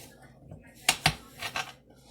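Two sharp knife taps against a cutting board as Italian sausage is sliced down the middle, followed by a couple of softer clicks.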